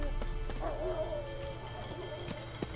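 Dogs in The Witcher 3 bark and whine a short way off, with a couple of yips over a low ambient game hum.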